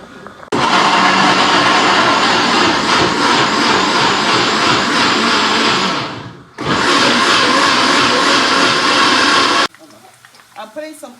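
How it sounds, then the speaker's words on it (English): A kitchen blender whirs loudly while blending kiwi, running in two long bursts split by a brief pause before it cuts off to quieter background sounds. "I'm going to blend the kiwi"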